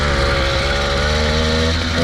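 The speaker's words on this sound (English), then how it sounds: "The motorbike is officially back." A motorbike engine idles and revs close by, a steady throaty drone with a slight rise and fall, loud and alone.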